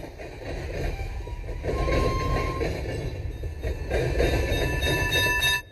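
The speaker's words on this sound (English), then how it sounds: "An out-of-control trolley car is speeding towards 5 people tied to a track." A trolley car rolling fast along a rail track, steady rumbling clatter of wheels with high metallic squeals and ringing tones, loud and continuous with no voices.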